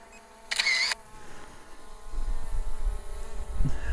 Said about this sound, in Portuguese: Vou tirar uma fotinha aqui.